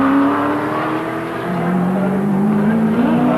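A 1983 touring race car at Symmons Plains is flung out of the S bends onto the pit straight. Its engine roars loud and close with rising revs and a brief tyre squeal, under faint commentary.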